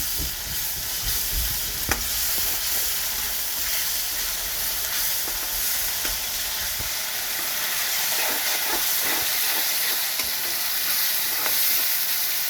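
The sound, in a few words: ginger garlic paste frying in oil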